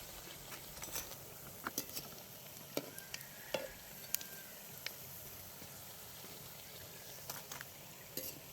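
Spinach vada deep-frying in hot oil in a village kitchen, a steady close crackling sizzle with scattered sharp pops and occasional stirring clicks, no voices.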